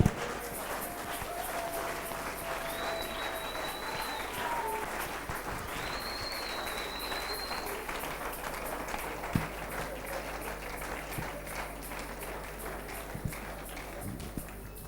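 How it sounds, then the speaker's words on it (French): A church congregation applauds and cheers at length as a dense, steady patter of many hands, faint and distant, with a few brief voices rising above it. "Nous acclamons très fort pour la parole de Dieu."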